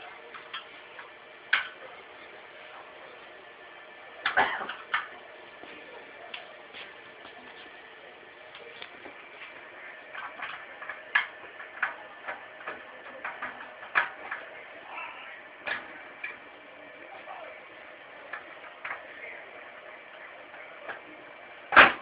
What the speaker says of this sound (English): I'm going to get a flat Phillips screwdriver and unscrew